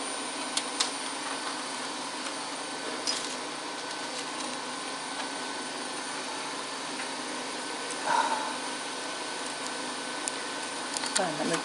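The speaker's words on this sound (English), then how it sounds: "Hope you can hear me over the washing machine." A washing machine runs in a room with a steady broadband whir and hum throughout, with occasional clicks and knocks on top.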